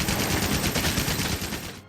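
Rapid, continuous gunfire from a bowgun in Monster Hunter World, a dense loud volley with no pauses that cuts off abruptly at the end.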